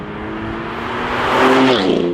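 A BMW M4 CS engine climbs in pitch and volume over a couple of seconds, the rising rev sounding smooth and loud up close.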